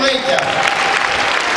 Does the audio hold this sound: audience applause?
yes